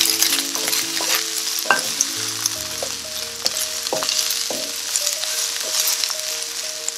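Canned salmon with hot pepper cooking in a pan, an even, continuous sizzle with a few stirring clinks and scrapes, close up and without any talk.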